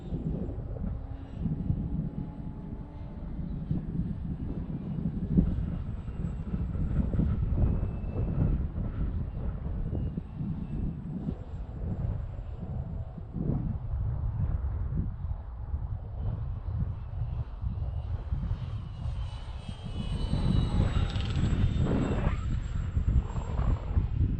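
Conscendo Evolution electric brushless powered glider, a 4-channel model, flying overhead with a steady buzzing motor drone mixed with wind rumble on the microphone; the whine swells louder near the end.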